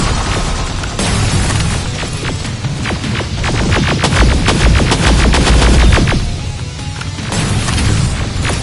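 Gunfire in the Terminator video game, a loud, dense battle of rapid automatic bursts and heavy booming impacts that swell and continue throughout, with no speech.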